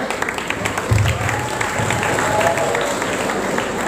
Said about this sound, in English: You won't get a chance to clap for them anymore. So do it now. Get louder.